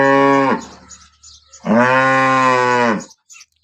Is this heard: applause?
no